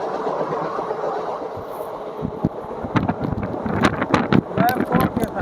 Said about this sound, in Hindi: फिर किसी ट्रेन का क्रॉस है यहाँ पे।